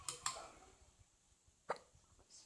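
Several quick, sharp hiccups come from a person standing near a 54-inch Craftmade Toscana ceiling fan, with two close together and one more after a pause, in a quiet room.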